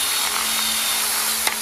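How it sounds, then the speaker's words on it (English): Power drill boring into metal for a go-kart motor mount, a steady close whine with a constant tone, then a brief sharp clunk near the end. "Okay, drill go vroom."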